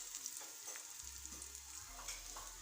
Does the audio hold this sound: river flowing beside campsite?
no